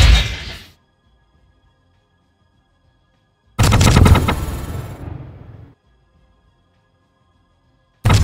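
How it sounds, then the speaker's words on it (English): A machine gun fires in the pixel-art mech video game PixelMek as two loud bursts of rapid shots, each rattling out and then decaying, with a near-silent gap between them and a third burst starting at the end. "Alright. Machine gun time."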